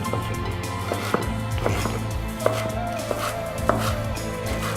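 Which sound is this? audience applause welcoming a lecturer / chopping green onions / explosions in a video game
chopping green onions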